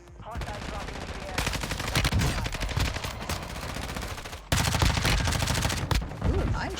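Rapid gunfire from a video game, with dense automatic bursts running almost continuously and growing louder in the second half, while a voice speaks faintly underneath.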